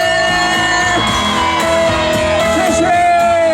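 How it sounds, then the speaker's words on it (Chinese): Audience at an outdoor Taiwanese-language golden oldies concert at a temple in Hsinchu shouting and cheering, a loud continuous roar of voices with music-like tones running underneath. "给我们现场所有的长官、工作人员热情的掌声加尖叫声"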